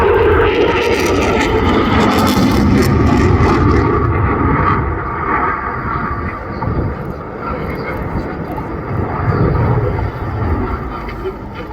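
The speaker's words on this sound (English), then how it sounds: "just below 700 miles per hour on this pass, as he goes into a high-speed double aileron roll" RAF Eurofighter Typhoon fast jet roaring past at just under 700 mph during a double aileron roll at an airshow, a loud, continuous broadband engine roar that peaks early then eases slightly as the aircraft moves away.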